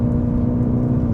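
The artificial Sport Sound engine tone in a GWM Ora 07 Long Range Ultra electric car plays as a steady, loud, low droning hum with layered harmonics and no talk.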